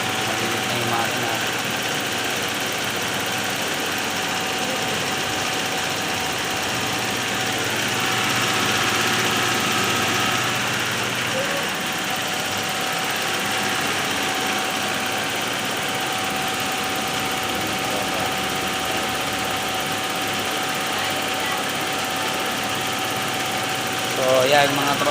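A Toyota Big Body GLI car engine idles steadily and close, a continuous low rumble with a faint hum, running without a break.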